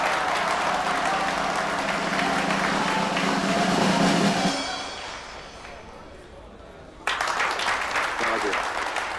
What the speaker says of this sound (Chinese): 请大家鼓掌欢迎。